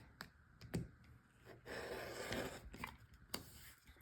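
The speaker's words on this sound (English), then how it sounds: "Okay, now we cut it." Quilt fabric is trimmed with a cutter or scissors, with a few sharp clicks and a soft scraping cut running through the middle, close and quiet, with no talk.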